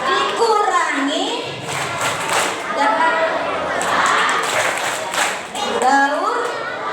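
Children at an Islamic boarding school bank-sampah recycling lesson chant and clap the 3R clap in unison, rhythmic group voices with bursts of claps and thumps filling the room, loud and close throughout.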